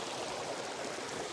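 A creek flowing along a changed creek bed, heard as a steady, soft rushing wash of water with no voices.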